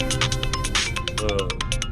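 A phone rings up close, its electronic ringtone a fast, insistent run of bright repeating beeps.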